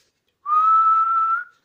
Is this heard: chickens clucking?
no